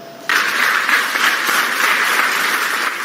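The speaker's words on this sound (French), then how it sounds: "Un tonnerre d'applaudissements" Audience at a human rights award ceremony in Kinshasa bursts into sustained, even applause that starts abruptly and holds steady, with no talk over it.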